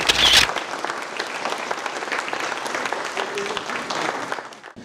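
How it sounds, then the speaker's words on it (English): A round of applause at an annual meeting, broad sustained clapping from a crowd that fills the room, with a brief louder burst at the start and a gradual fade at the end. "we'd like to take a picture and another round of applause"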